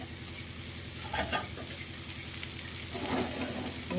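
Fish frying in hot oil with curry leaves gives a steady, close sizzle that runs throughout, with a few brief clinks of stirring near the start and again toward the end.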